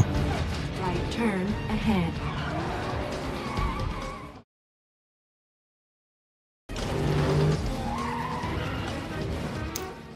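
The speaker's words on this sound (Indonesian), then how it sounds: "drifting dan kecelakaan tipis-tipis mewarnai balapan ini" Car tires squealing and skidding during a drifting street race in a film, loud and sustained with engine noise under film dialogue and score, cut by a silent gap of about two seconds midway.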